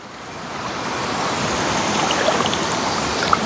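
An inexpensive RC crawler van drives through shallow water, giving a steady broadband splashing and sloshing wash that builds slightly over a few seconds, close and continuous, with no talking.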